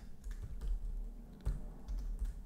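Quiet computer keyboard typing at a desk, a steady run of light, close keystrokes with a few sharper taps, with no voice over it.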